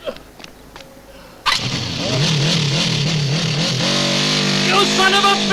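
A motorbike engine fires up suddenly after quiet ambient noise with faint background voices, then idles and revs steadily as it pulls away, loud and close, its pitch rising with acceleration toward the end.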